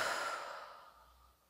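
A single long outward breath, blown out slowly during a guided meditation, soft and airy and fading gradually over about a second and a half with no talking.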